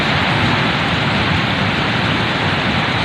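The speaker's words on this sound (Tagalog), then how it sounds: "Kusog kayo ang baha." Heavy rain with strong, fast-moving flood water makes a dense, loud, unbroken roaring hiss that fills the whole stretch, with no voices.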